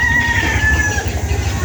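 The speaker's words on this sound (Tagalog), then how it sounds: "Grabe, ang dami ng sisiw dito." Chickens and many chicks on a poultry farm, a close cluster of clucking and peeping calls over a low background rumble, no speech.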